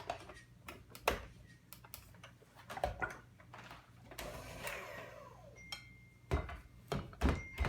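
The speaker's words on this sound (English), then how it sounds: "So now I'm going to mix it all together" A spoon taps and scrapes as sugar, pumpkin spice, salt and baking powder are mixed in a bowl, giving quiet irregular ticking clinks with no one talking.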